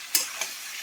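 Washed ridge gourd drops into a hot pan, setting off two quick bursts of sizzling that flare up sharply and then settle into a softer, ongoing fry.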